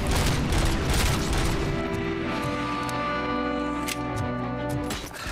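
Robocop: Rogue City gameplay with sustained gunfire aimed at motorbikes, dense loud shooting over engine drone and music-like tones, with cracking impacts throughout.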